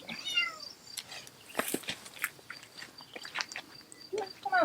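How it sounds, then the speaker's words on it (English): A kitten on a woodland homestead meows plaintively at the start and again at the end, with soft clicks and rustles close by between the cries. "letting Kitten out because they won't stop crying"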